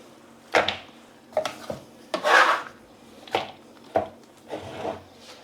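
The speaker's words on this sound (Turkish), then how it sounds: "Şöyle boldan boldan tuzlayıp şöyle elimle de soğanı çok da parçalamadan sadece yapraklarından ayırmayı çalışıyorum arkadaşlar" Onion being salted and its layers pulled apart by hand in a plastic bowl: a series of close, crisp rustling and crunching bursts, roughly six irregular handling sounds with quiet gaps between.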